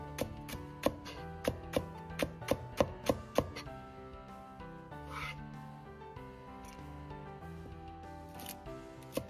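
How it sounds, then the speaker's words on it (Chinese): A knife slices a green onion into thin shreds on a cutting board, a quick run of about ten crisp, regular chops over soft background music, then the cutting stops. "大葱一根清洗干净，从中间片开，再斜刀切成丝"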